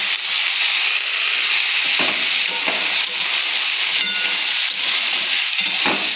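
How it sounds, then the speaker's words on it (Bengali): Pumpkin and chickpeas frying in hot oil in a pan, a loud continuous sizzle broken by repeated scraping stirs, close up with no talking. "কুমড়ো এখন তেলের মধ্যে নাড়া হবে"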